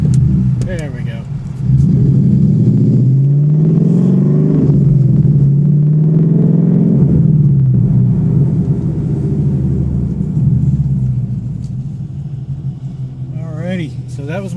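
A 2015 Ford Mustang GT with a Flowmaster Outlaw axle-back exhaust on the move in traffic: a steady, loud, deep exhaust rumble that swells and eases with the throttle, heard from inside the car, with brief speech near the start and end.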